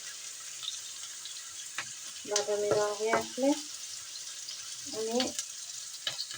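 Food frying in a pan while cooking lentil dal with bottle gourd greens, a steady soft sizzle throughout with someone talking briefly over it.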